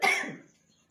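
A single sharp, close cough bursts out and quickly fades into silence.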